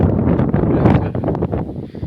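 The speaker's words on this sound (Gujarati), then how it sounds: "પવન છે એક નંબર અટાણે આવું" Strong wind rushes through a millet field, a loud close buffeting roar that batters the microphone in continuous gusts for a couple of seconds.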